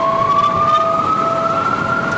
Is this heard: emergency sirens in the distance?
yes